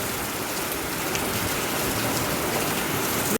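Heavy rain pours steadily on surfaces at the start of a thunderstorm over a village house, a dense even hiss throughout with no thunder heard.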